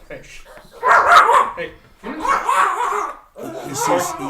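A dog barks in three separate bursts, close and fairly loud, mixed with people talking.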